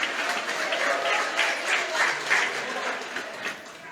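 Congregation applauding during a church sermon, a moderate wave of many hands clapping in uneven bursts, sustained across the whole stretch and fading slightly at the end.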